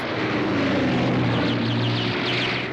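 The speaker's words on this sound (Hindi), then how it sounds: "एक फाइटर जेट आ रहा है।" A cartoon fighter jet roars past in a continuous loud engine drone, with a low tone sliding downward and whooshing high-end sweeps, steady and close throughout.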